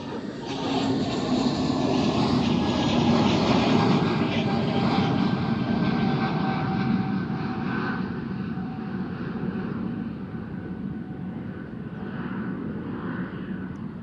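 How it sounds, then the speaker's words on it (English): Delta airliner passing at Amsterdam Schiphol, a broad steady jet roar with a faint whine, sustained and gradually fading over the whole span. "And then another Delta flight."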